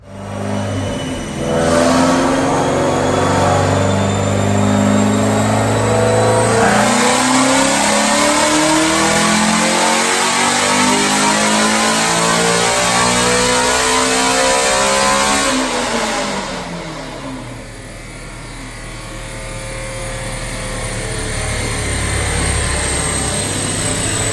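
A Ford Mustang GT350 with Kooks headers and a JLT cold air intake revving hard on a dyno, a loud engine climbing steadily through the rev range for a long pull, then falling back and rising again, no voices.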